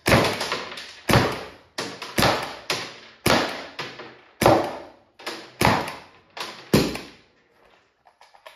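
A Paradigm PTX marker firing light 3.2-gram rounds: about ten sharp, loud thumping shots at an uneven pace, each trailing off, followed by near silence and a few faint clicks at the end.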